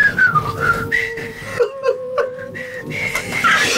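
Someone tries to whistle a tune, producing wavering, breathy pitched tones that slide up and down, with airy hiss and brief gaps between phrases.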